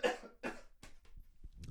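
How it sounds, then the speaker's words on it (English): Two harsh, close coughs come in quick succession, followed by a few softer throat-clearing sounds and short breaths, all quiet and alone. "Sorry, I need a cough, guys."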